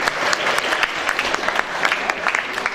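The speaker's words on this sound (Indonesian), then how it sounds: "Tepuk tangan untuk Pak Made Wardana" Audience at a national seminar in Bali clapping for a speaker being introduced, a dense, even burst of applause that holds steady throughout without a break.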